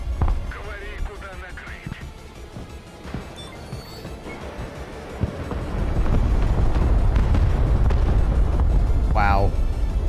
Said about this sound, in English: That was a bombing run of all time.